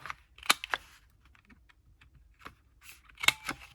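A corner rounder punch clipping the corners of a paper journal gives a few sharp, close clicks and snaps with quiet gaps between them.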